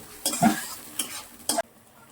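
Spices stir-fried in a pan with tomato, turmeric and salt: three distinct scraping strokes of a spatula over a faint sizzle, then the sound stops abruptly.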